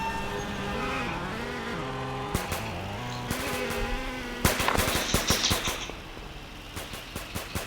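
Video game gunfire rings out as rapid cracking bursts over a droning engine-like hum, the shots growing denser and louder toward the end while intermittent sharp pops continue, with no talk.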